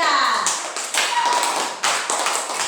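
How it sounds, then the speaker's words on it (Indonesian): A class of students clapping for a group in a classroom, several dense bursts of hand claps in quick succession, loud and close. "Oke, tepuk tangan untuk kelompok 3"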